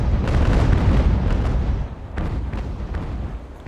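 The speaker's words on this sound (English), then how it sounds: "Top deck cannons are shooting over the ship" Dense, rolling broadside of sailing-warship cannon fire in Ultimate Admiral: Age of Sail, with booms overlapping into a continuous loud rumble that briefly dips and then resumes with sharper reports.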